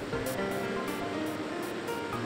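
River water flows steadily beneath a bridge in Tokyo, where a small-scale hydroelectric generator sits under the span; a faint, continuous rushing wash with soft periodic swells, heard alone.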